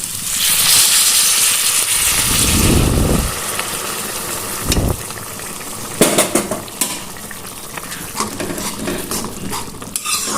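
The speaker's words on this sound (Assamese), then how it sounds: "মোৰ এতিয়া ঢালি দিম ইয়াত গৰম পানী" Hot water poured into a pan of eggplant and potatoes frying for a dish with dried hilsa fish, bringing a loud surge of hissing sizzle, then quieter bubbling with a few sharp utensil clinks against the pan.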